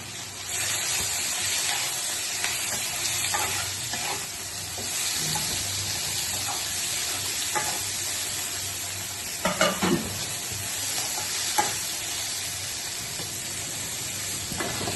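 Green chillies sizzle and hiss steadily in a hot pan with onions, with occasional stirring scrapes and small pops over the continuous frying noise.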